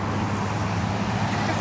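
A UPS delivery truck passes on a road, with a steady broadband rumble of engine and tyre noise holding at a fairly close, even level and no talk over it.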